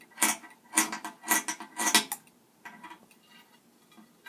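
Scissors snip through fleece strips for a no-sew knotted throw, four crisp rhythmic cuts up close, then a quieter, fainter run of small snips trailing off.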